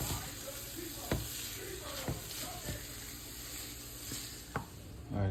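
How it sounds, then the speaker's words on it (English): Hamburger meat and onions frying in a Dutch oven, a continuous moderate sizzle with occasional stirring knocks and scrapes of a utensil against the pot. "potatoes, hamburger meat going. This will be the Dutch oven I'm gonna use for my hamburger soup."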